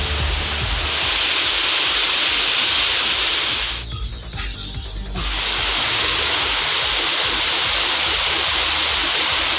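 Suruli waterfall in flood crashes in a loud, continuous hissing roar, dipping briefly for about a second midway before the full torrent resumes.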